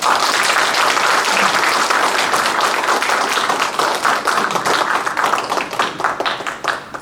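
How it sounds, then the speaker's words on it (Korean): A seminar audience breaks into vigorous applause, a dense roar of clapping that stays loud before thinning into more distinct individual claps toward the end. "무한한 존경과 감사의 힘찬 박수를 보내드립니다"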